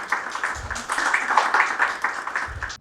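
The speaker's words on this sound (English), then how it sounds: "Please join me in welcoming Ankita with a huge round of applause." An audience at a UPSC topper's talk claps to welcome Ankita Rath, a moderate patter of applause at fairly even loudness with a few low thumps.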